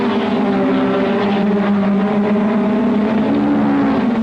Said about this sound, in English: And here comes a V6 Ferrari driven by John Surtees